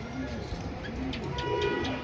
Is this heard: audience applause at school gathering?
no